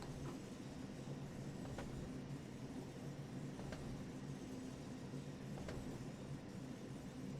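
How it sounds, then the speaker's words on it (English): A DB BR 628 diesel multiple unit runs along the Niddertalbahn branch line from Bad Vilbel to Stockheim in Train Sim World 3, producing a steady, continuous engine and rail rumble with faint clicks and no talking. "having a nice little train along a branch line"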